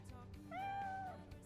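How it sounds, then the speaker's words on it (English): A cat meows once in Xenoblade Chronicles X, a single clear, drawn-out mew rising and holding over quiet game background ambience. "There goes Kitty Cat!"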